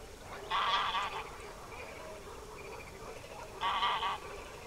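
A flock of moulting swans calling across open river shallows, two bursts of nasal honking calls about three seconds apart over a steady background hiss.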